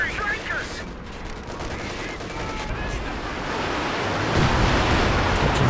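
A Panzerwerfer rocket artillery strike rumbles through a Company of Heroes 2 battle, with dense rolling blasts and gunfire-like crackle building louder toward the end, under general battle din.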